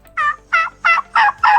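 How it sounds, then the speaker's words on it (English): A turkey gobbles in five quick, loud bursts with short gaps between them, close and clear, with no voices. "This is a turkey."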